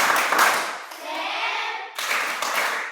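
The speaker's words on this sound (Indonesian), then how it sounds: "Tepuk semangat." A school class performs a rhythmic spirit clap, patterned bursts of hand claps broken by a short stretch of voices chanting along, then clapping resumes, close and fairly loud.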